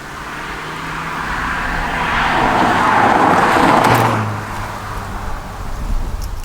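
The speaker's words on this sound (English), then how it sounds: "Right, let's go for a drive." A car is out on a drive, heard from close by as a steady engine and road drone that swells to a louder rush midway, then settles back to a rougher hum.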